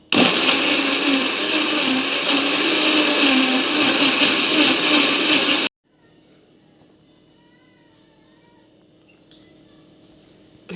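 A Moulinex blender whirs loudly and steadily for about six seconds while mixing flourless carrot cake batter with vanilla, sugar and cocoa, then cuts off abruptly, leaving quiet room noise.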